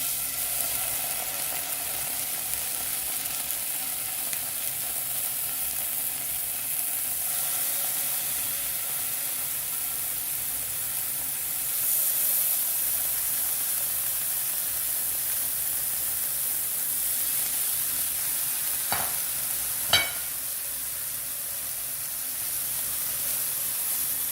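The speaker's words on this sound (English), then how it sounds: "Let's start cooking our raw bacon." Raw bacon fries in a pan with a constant, bright, close sizzle and hiss that runs throughout, with a couple of brief sharp pops near the end and no talking.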